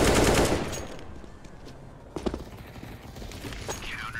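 Gunfire in Counter-Strike on the Mirage map: a loud burst opens, then quieter scattered shots and clicks follow at a distance.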